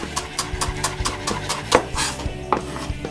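A knife chops food into uniform pieces on a cutting board for chorizo tacos and garnish, giving a quick, even run of close, crisp chops at a steady rhythm with no talk.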